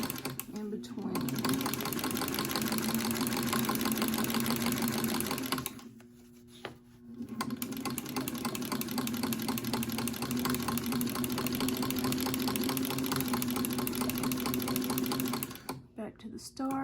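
Sewing machine fitted with a ruffler attachment stitching fabric for art journal pages, a steady fast mechanical whir running close and loud, with a short pause midway and a brief stop near the end.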